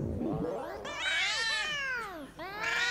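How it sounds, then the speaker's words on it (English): Recorded cat samples play back in a live-coded audiovisual performance: several drawn-out, rising and falling meows and screeching yowls follow one another, loud and close, with a brief pause before the last cry. "Evil cats."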